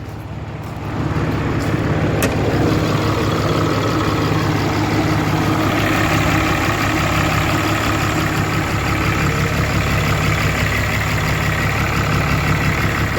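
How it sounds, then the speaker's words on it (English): A 2013 Cummins diesel truck engine with a failed head idles steadily up close, a low rumbling drone with a constant hum throughout and no voices. "She runs really good. Idling fine."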